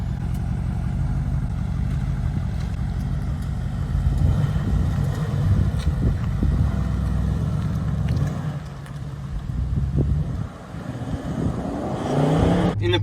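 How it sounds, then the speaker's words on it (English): A Porsche Cayenne S drives along with a steady low engine drone and road rumble heard from inside, rising and easing slightly, a few soft knocks and a brief dip midway. "Now we are going to jump in the car and take it for a drive."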